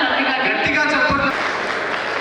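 An audience at a women's awards ceremony breaks into dense, steady applause that holds evenly throughout, with a faint murmur of voices underneath.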